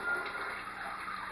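Meat juices poured from a container into a soup pot of liquid, a soft, quiet gurgling trickle that swells briefly and then settles into a steady pour.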